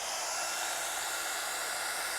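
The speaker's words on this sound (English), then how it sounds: "I'm going to bring my heat tool in again, and we're going to set this." A handheld craft heat tool blows hot air steadily over embossing powder on a stamped card, a constant, close whooshing hiss of airflow with no talking.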